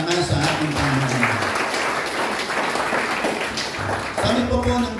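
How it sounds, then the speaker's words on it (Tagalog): Loud, steady applause from a church congregation fills the space without a break, with a voice speaking over the clapping at the start and again near the end. "At pumalakpak ng malakas sa ating Panginoon."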